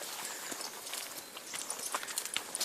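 Hooves of a horse being handled outdoors land in light, uneven clip-clop steps. The footfalls are faint and scattered over a soft background hiss, with no talking.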